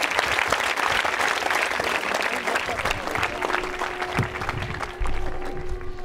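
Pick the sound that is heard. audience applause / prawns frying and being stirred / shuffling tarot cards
audience applause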